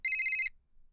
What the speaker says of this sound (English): My phone rang, again and again.